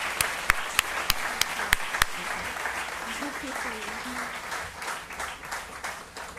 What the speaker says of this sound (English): please join me in giving Navina Haider a very big round of applause